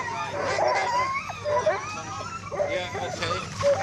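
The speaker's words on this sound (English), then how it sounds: "the dogs that are prepared to go sledding are eager to pull the sled" Eager sled dogs yip, bark and whine excitedly before a winter dog-sled run near Lake Louise, Canada, a dense chorus of high overlapping cries close by, with people talking over them.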